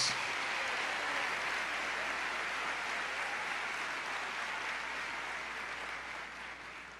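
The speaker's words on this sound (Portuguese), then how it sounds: "Aplauda Jesus" A church congregation applauding during a sermon, a dense, continuous roar of many hands clapping that slowly tapers off toward the end.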